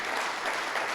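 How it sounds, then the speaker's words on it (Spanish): A church congregation applauds the worship ministry during a service, a dense, continuous wash of clapping from many hands, filling the space evenly without pause. "Aplauda al Ministerio de Alabanza por ese hermoso trabajo que hacen"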